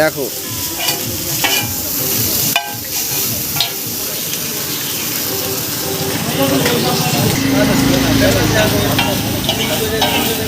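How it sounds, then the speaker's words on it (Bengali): Large pakoras fry hot in oil at a street food stall, a loud continuous sizzle with scraping stirs and clinks, while people talk nearby. "বড় বড় পকোড়া দেখো এখানে গরম গরম ভাজছে"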